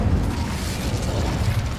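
A fire spell cast in the Hogwarts Legacy video game: a steady, dense rumbling roar of flames with low booming pulses, filling the whole moment with no voices.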